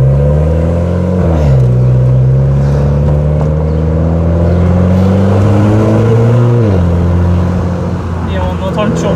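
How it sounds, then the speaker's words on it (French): A Renault Clio 4 RS Trophy accelerates loudly from inside the cabin, engine pitch climbing and dropping through gear changes with a steady turbo whir, while occupants talk over it. "Et on entend le turbo."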